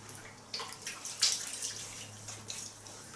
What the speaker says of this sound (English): let's wash the face.